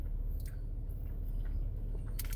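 Close, soft chewing of a knockoff Milky Way candy bar, a few moist crunches and squishy bites over a low steady background, with no talking.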